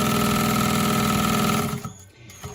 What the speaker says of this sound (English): I'm using a industrial walking foot machine